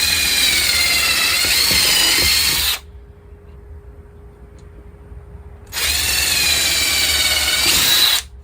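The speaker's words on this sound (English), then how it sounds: "But now we're gonna drill those." A power drill bores holes in an irrigation pipe for a garden watering system, whining loudly for about three seconds, pausing briefly, then running again for another burst.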